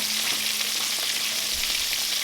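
Mustard-coated catfish in cornmeal deep-fries in oil heated to about 375 degrees, giving a constant close bubbling hiss with faint low knocks underneath, with no voices.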